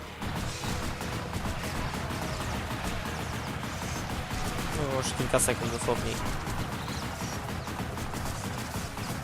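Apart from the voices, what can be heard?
gunshots in a video game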